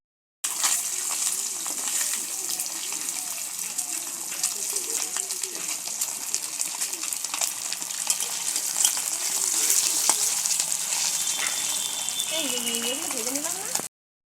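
Frying for a home-cooked egg biryani, a continuous sizzling hiss with some stirring, steady and fairly close, while people talk faintly underneath.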